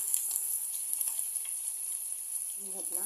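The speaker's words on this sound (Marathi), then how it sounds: "आता त्याच्यामध्ये कढीपत्ता आणि एक अख्खा बारीक चिरलेला कांदा" Curry leaves and a whole finely chopped onion frying in hot oil with cumin and asafoetida for a cabbage bhaji: a steady, fairly faint crackling sizzle throughout, and a brief spoken word near the end.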